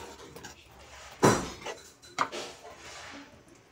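A spoon stirs fried pakoras into kadhi in a pot, giving a few close clinks and scrapes of metal against the pot: one loud knock, a second smaller one, then soft rubbing.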